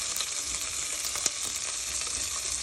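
Chicken and onion sizzle steadily in a frying pan while being stirred, a dense continuous hiss with one small clink partway through, close and loud without any talking.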